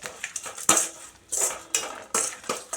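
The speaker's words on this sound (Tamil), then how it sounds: "சேர்த்திட்டு இந்த சூட்லேயே எல்லாம் மிக்ஸ் பண்ணி விட்டுக்கலாம்." A utensil stirs beetroot and grated coconut thuvaiyal in a metal pan, making repeated scraping clinks and knocks in an uneven rhythm, close and moderately loud with no talking.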